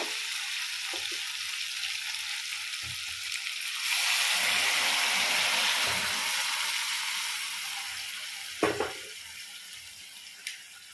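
Sautéed mutton crackles softly in a pan until hot water pours in, setting off a louder, steady rush of boiling sizzle that fades gradually. A few sharp clinks follow near the end.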